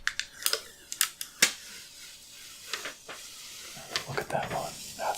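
Protective film peeled off the back of an XFX RX 590 graphics card: close crackling tears and sharp ticks in short bursts, then a longer rustling peel, with a soft voice speaking.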